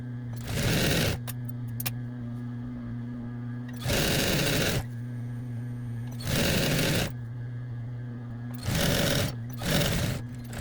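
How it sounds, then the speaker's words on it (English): Sewing machine stitching a seam on a Lady Liberty costume, four close, loud bursts of rapid stitching separated by pauses, over a steady low electrical hum. "I'm going to back stitch and sew that whole side"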